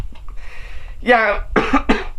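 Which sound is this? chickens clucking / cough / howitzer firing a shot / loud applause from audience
cough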